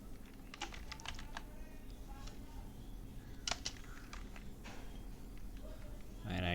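Keys clatter on a computer keyboard as an SQL query is typed, in irregular bursts of sharp clicks at close range, alone over a low steady room hum.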